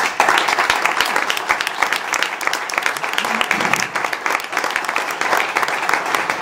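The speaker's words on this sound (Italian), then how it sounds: "quindi io vi chiedo un applauso." A live audience applauds at an album launch presentation, dense sustained clapping filling the room steadily for several seconds, loud and close with no pauses.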